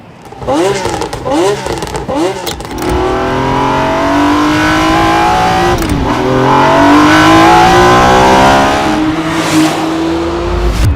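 A restored Ferrari F50 hypercar engine being tested: sharp blips of the throttle followed by a long, loud rising rev that climbs steadily through the gears, close and powerful with no talking.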